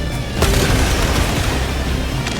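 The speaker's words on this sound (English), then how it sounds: "An airburst grenade launch" An airburst grenade launch from Helldivers 2 lands as a loud, booming blast with a sharp initial crack and a thick rumbling tail that fills the whole moment.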